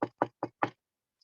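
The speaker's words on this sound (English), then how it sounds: "he knocked on the door" Four firm, evenly spaced knocks on a wooden door of a wooden house, close and sharp, with nothing else heard between them.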